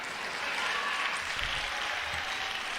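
Applause from a church audience at a political address in an Atlanta church, a steady, dense wash of clapping that holds at an even level throughout without pauses.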